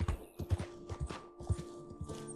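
Rhythmic clip-clop of a horse's hooves walking at an even pace in the video game Red Dead Redemption 2, close and distinct, with a faint steady tone in the background.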